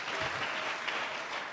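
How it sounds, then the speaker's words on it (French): A church congregation breaks into continuous, dense applause, loud and sustained throughout the short stretch with no pauses. "Acclamons très fort pour les rois."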